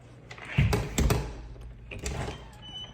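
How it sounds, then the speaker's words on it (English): Front door of a house in Myrtle Beach, South Carolina being pushed shut, two sharp clunks with a latch rattle close by, then quieter handling noises. "Let me close this front door here."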